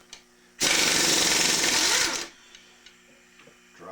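A small impact wrench fires in one sustained burst of about a second and a half, loud and close, then cuts off to a quiet workshop with faint clicks, during a teardown of a Parilla high cam engine.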